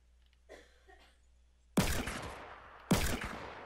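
Two sharp gunshot bursts ring out about a second apart in a Fortnite Battle Royale duo match, each loud crack decaying quickly, after a stretch of faint game sounds.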